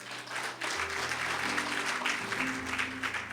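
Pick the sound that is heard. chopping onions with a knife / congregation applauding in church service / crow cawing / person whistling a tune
congregation applauding in church service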